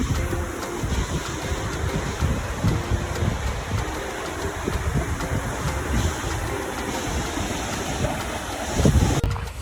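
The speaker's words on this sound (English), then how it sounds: "I already hear the water." Barnafoss waterfall in Iceland sends up a steady roar of rushing water, broad and continuous at moderate loudness, with gusts of wind buffeting the microphone outdoors.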